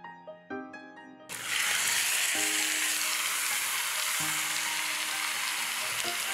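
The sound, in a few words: beef sizzling as it is added to curry in the pot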